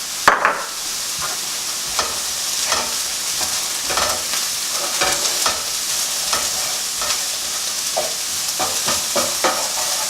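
Cumin and mustard seeds frying in a pan, a constant loud sizzle with frequent crisp ticks and scraping stirs scattered throughout, and no voices.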